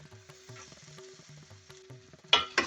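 Spices frying in oil for a Durban sheephead curry, a soft steady sizzle with faint stirring, then two louder crackling bursts near the end, close and without talk.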